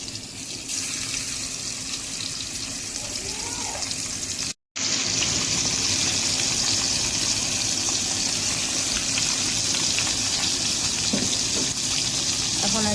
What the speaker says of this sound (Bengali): এখন আন্টি ভাজতে দিয়ে দিচ্ছে মাছটা।